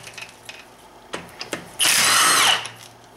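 A power tool, an impact gun, removes lug nuts on a BMW 3 Series during a front pad and rotor job: a few light clicks and knocks, then one loud sustained whirring burst lasting under a second, close by.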